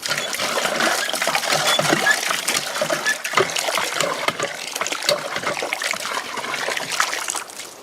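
Cold water splashes and trickles from a hand pump well into a bucket, a close, continuous pouring stream with slight surges and no talk over it.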